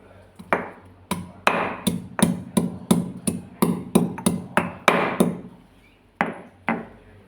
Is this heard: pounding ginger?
yes